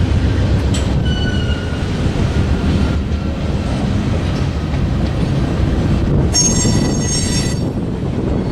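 Union Pacific freight train rolling out of a rail yard past a mid-train DP unit, a loud continuous rumble of wheels on track with metallic squeals and clickety-clack, no voices.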